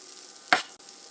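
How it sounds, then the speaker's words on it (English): Bell peppers sizzle in a frying pan with a little salt and pepper, a soft steady hiss broken by one sharp burst of crackle midway through. "Our peppers are just sizzling in there."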